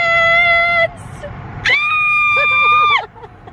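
A person lets out two long, loud, high-pitched screams close by, separated by a short pause, the second rising sharply and then breaking off.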